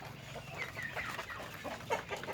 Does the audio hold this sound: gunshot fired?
no